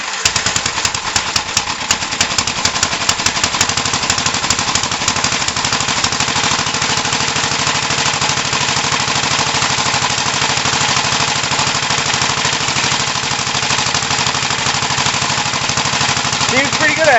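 A 1968 Gravely C8 tractor engine catches and runs on, a loud, steady, rapid single-cylinder chatter that stays close and constant throughout with no pause, a harsh popping idle filling the whole stretch.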